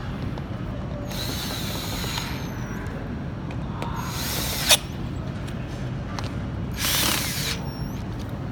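A power drill driving screws during furniture assembly whirs in three short bursts over a quiet, steady background, with a brief clack near the middle.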